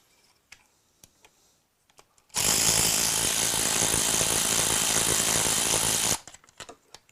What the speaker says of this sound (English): crack the bolts on the front sprocket while the chain's still attached.